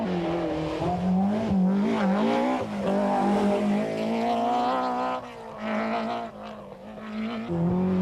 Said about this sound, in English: They're still chasing Bertie Fisher and Rory Kennedy in the second of the BMWs.